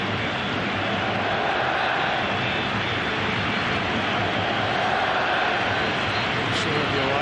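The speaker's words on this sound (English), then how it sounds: "Listen to the Aussie crowd" Australian supporters fill a stadium at a World Cup qualifier with a sustained roar, dense and loud throughout, while a commentator's voice can be made out faintly over the crowd noise.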